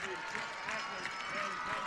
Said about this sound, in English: as the crowds come alive here on the Ridgeview side